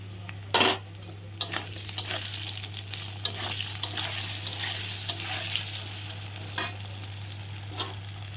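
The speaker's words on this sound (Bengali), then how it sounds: "আলুগুলো ভাজা হয়ে গেছে এখন দিয়ে দেবো বেগুন আর কাঁচা লঙ্কা দেখো" Potatoes fry in a pan for a bottle gourd greens dish, a continuous sizzle broken by repeated scraping and clinks of a spatula stirring against the pan, with a steady low hum underneath.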